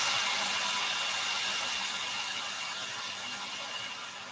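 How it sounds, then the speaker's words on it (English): A hair dryer blows a steady, close whooshing stream over wet paint on a cactus painting, holding even throughout and easing only slightly toward the end, with no talking. "so just hair dryer it a bit."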